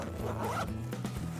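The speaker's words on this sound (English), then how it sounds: "You can access the top portion of the bag via zipper underneath." A zipper on a Simms Bounty Hunter roller bag is pulled in a few quick, raspy strokes close up, with no other sounds around it.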